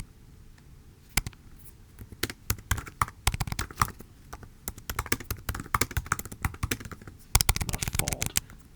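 Rapid keyboard typing with irregular bursts of clicky keystrokes, close by, pausing briefly before a final flurry of taps.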